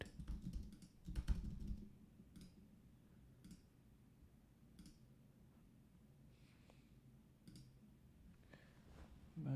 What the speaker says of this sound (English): Magic keyboard isn't connecting.